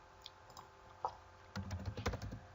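Quiet computer keyboard typing, a few isolated key clicks followed by a quick burst of keystrokes near the mic.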